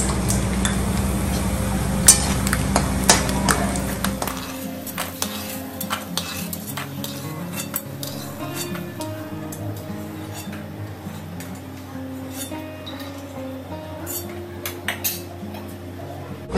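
Peanuts roast in coconut oil in a kadai, with repeated close scrapes and metallic clinks of a stirring spoon against the pan over a light sizzle, steady throughout.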